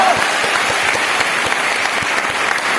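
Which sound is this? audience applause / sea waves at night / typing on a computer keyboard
audience applause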